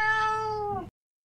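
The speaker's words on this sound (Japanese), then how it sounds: "猫の声、音がする" A single clear cat meow in the video game Minecraft, drawn out for under a second, then it cuts off abruptly into silence.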